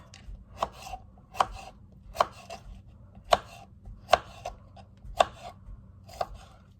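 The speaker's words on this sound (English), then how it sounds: "what I'm going to do is chop these up kind of small, put them on my potatoes" A steak knife chopping food on a cutting board for potatoes, seven crisp, evenly spaced knocks close up with quiet handling between them, no talking.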